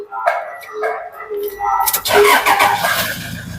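A used automatic van from 2018 cranks and starts, the engine catching and settling into a steady idle after a brief whir, heard close with someone speaking Thai over it.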